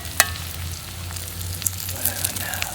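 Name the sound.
eggs frying in a dugout pan by a creek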